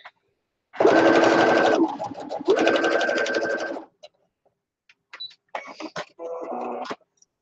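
Sewing machine stitching a thick fabric seam on a pillow case or mug rug, in two long steady bursts of rapid mechanical chatter with a pause between, then quieter fabric handling and clicks close by.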